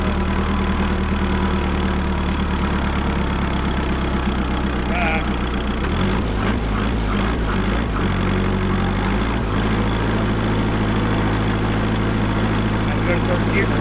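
A 1949 Farmall Cub tractor engine idles loudly, then revs up hard under the throttle around the middle before settling back into a steady running chug, close by.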